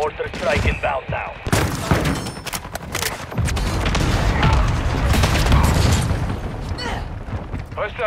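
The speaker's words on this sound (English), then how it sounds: "Mortar strike inbound now." Mortar strike explosions in Call of Duty: Modern Warfare II, heavy booms rolling in alongside scattered gunfire, loud and continuous with a rumbling low end, and voices under the barrage.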